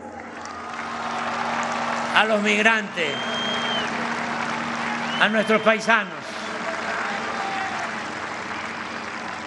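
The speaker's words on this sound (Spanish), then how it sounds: "Un aplauso" Audience applause at a speech by Mexico's president forms a steady wash of clapping beneath someone speaking Spanish over a microphone, with louder bursts of voice standing out.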